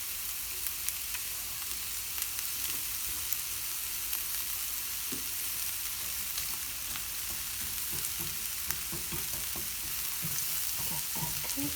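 Shallots fry in olive oil in a pan with a steady close sizzle and crackle, broken by occasional stirring clicks of a utensil, with no talk.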